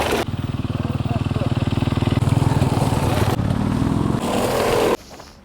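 A passing motorcycle engine drones loudly and steadily with a throbbing low pulse on a hillside road, holding close for several seconds before cutting off abruptly.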